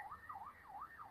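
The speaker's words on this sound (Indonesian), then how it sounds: "Ada ambulan." A faint wailing ambulance siren rises and falls in a steady cycle, distant and thin against quiet background.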